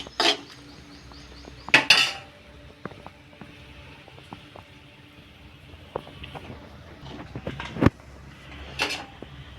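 A few sharp clanks of a utensil against a pot while mashed dal goes into fried mango and bottle gourd, then quieter scraping and light taps between the loud knocks.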